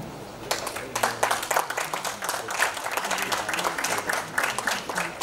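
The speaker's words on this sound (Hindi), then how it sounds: "आप सभी से गुजारिश, तालियों के साथ हम" Audience applause at a celebration honoring Jitendra, Govinda, Sonu Nigam, Talat Aziz and Smita Thackeray: a dense, sustained burst of clapping from a crowd, steady and fairly loud throughout with small swells.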